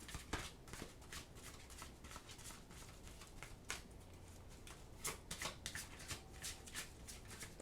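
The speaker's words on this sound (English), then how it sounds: "let me get your oracle card here" A deck of oracle cards being shuffled and drawn during a Virgo tarot-style reading, giving steady soft riffling and flicking with several sharper card snaps, close and fairly quiet with no talking.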